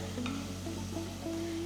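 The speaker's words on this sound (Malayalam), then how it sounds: "ഞാൻ ഇതിനകത്തേക്ക് 2ാം പാല് ഒഴിക്കുകയാണ്." Coconut milk pours into a simmering sardine curry, a soft steady bubbling and sizzling that runs throughout at low level, with no talking.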